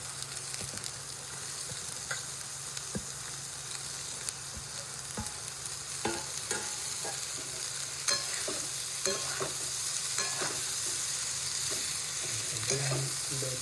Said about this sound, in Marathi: आता टाकते त्याच्यात भाजी फोडणीवर.